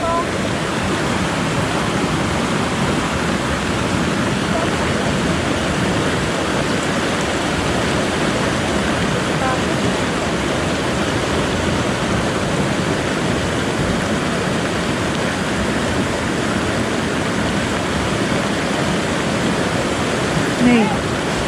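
A flooded river rushes in a loud, constant roar of churning water, steady and close throughout with no letup.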